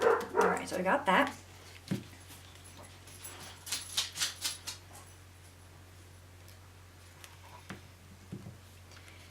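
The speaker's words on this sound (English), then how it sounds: "If you hear the dogs barking, there's somebody working next door." Several dogs barking next door, a burst of sharp barks at the start and another volley near the middle, with scattered yips later, heard at moderate distance while a person speaks briefly nearby.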